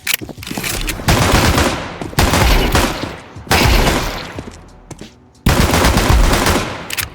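Rapid bursts of dual Beretta pistol fire in a first-person shooter, loud and close, coming in several long sustained volleys separated by brief pauses.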